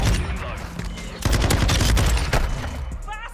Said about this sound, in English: Bastards! They're shooting at me!